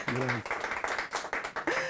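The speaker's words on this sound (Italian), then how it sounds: "Buonasera, applauso!" A TV studio audience applauds an arriving guest, quick irregular claps heard near and fairly loud while voices speak over them.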